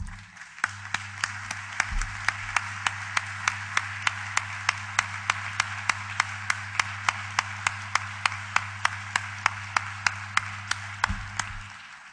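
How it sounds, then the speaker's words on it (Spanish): Steady, evenly spaced claps at a union congress, about three per second, keep a brisk rhythm for the whole stretch over a low constant hum. "yo quiero que se rinda un merecido aplauso, por favor"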